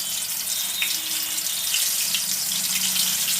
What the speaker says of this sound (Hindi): फिर इनको गरम कढ़ाई में डालकर